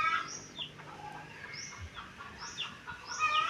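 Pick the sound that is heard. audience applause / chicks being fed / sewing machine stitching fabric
chicks being fed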